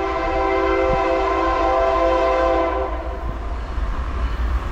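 Norfolk Southern freight train horn blowing in long sustained blasts for about three seconds, then the loud rumble of the train passing close by.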